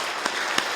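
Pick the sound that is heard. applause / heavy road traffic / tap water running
applause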